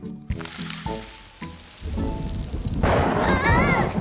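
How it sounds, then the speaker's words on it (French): A sudden burst of heavy summer thunderstorm rain and rumbling thunder roars in after a few brief sounds, loud and continuous, in a cartoon. "ce n'est qu'un orage d'été"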